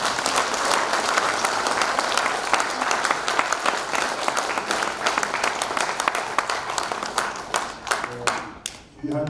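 An audience at an outdoor launch ceremony in a city square claps loudly and steadily, a dense, continuous round of applause with sharp individual claps that thins and breaks up near the end.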